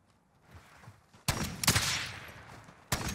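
Gunshots in the video game Call of Duty, a few loud sharp cracks with short echoing tails, separated by a quieter stretch.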